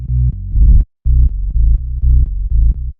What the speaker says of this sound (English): When I pitch it up, you can hear it a little bit more clearly.